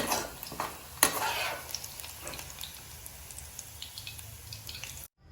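Sliced onions frying to golden brown in hot oil for chicken biryani, with a few sharp stirring clatters at first, then a steady low sizzle that cuts off abruptly near the end.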